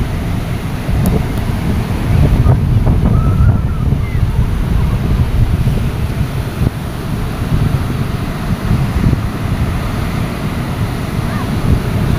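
Ocean waves and strong wind at the seashore, a loud continuous roar of surf and wind buffeting the microphone throughout, with no clear talk over it.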